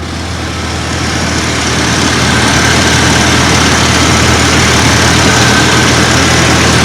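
A 1989 Dodge Dakota pickup truck engine idles steadily with a low, even rumble that holds constant throughout, no voices present.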